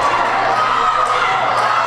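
A crowd at a wrestling event cheers and shouts loudly and continuously, a dense wash of voices filling the space for the whole moment.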